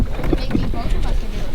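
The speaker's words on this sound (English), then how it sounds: "We're paddling normally." A canoe is paddled through water on an Algonquin trip, with soft splashing strokes close by under wind noise, and voices talking over it.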